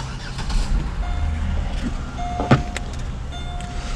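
A Pontiac G6 GT is started up: a brief, sharp cranking burst in the middle catches and settles into a low running hum, heard close up over a quiet background.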